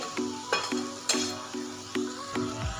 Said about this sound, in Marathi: छान आता इथं कांदा टोमॅटो परतलेला आहे।